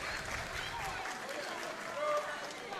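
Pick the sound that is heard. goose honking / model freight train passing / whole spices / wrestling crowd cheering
wrestling crowd cheering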